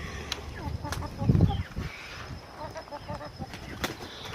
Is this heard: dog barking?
no